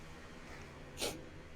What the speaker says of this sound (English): Uh-oh, I just sneezed.